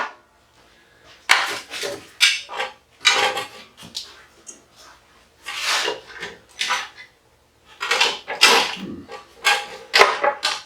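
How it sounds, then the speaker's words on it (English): Bolts being unscrewed and pulled from an aluminum light housing, with bursts of bright metallic clicks and clinks, short rattling clusters separated by brief pauses, close and fairly loud. "I'll take some bolts out here to get at this"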